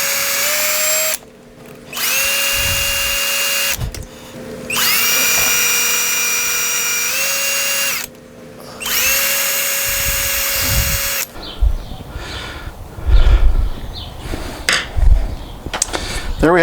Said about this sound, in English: Let's go ahead and drill these last two holes in each of the pickup surrounds